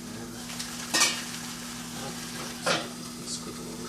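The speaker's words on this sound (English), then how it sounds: "Next step is going to be to cook the bacon." Bacon frying in a pan: a soft constant sizzle with two or three sharper bursts of scraping or flipping, close by.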